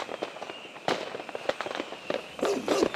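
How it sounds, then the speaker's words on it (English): Fireworks burst outdoors in a scattered sequence of sharp cracks and pops, several close together, with a rough crackling flurry near the end at moderate, somewhat distant loudness. "I just thought it was because the fireworks were so loud."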